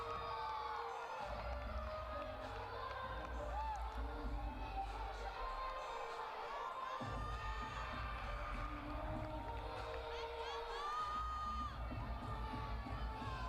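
Coach and crowd at a Minnesota versus Iowa college gymnastics meet shout and cheer steadily through a routine, a dense arena roar with whoops and excited voices that never lets up.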